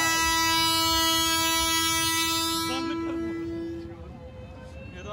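A long, loud, steady train horn blares from a train-themed fairground ride, then cuts off around midway, leaving rumbling crowd noise and faint chatter from the fair.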